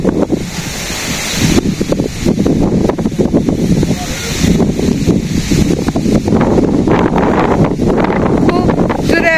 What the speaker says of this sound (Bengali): বাতাস চলেছে আর কি তো পালাটা উড়ে যাবে